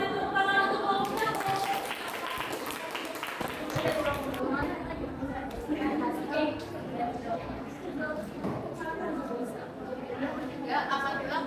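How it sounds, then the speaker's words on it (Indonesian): A classroom of students applauding a group, scattered hand claps and chatter spreading through the room, fairly faint and mixed with voices. "Oke, kita beri tepuk tangan untuk kelompoknya."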